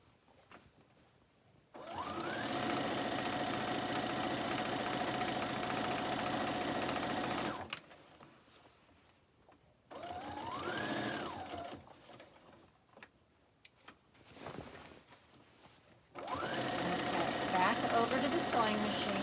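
A sewing machine stitches a ribbon skirt in several bursts, a steady mechanical whir of a few seconds each separated by pauses, with someone talking between runs.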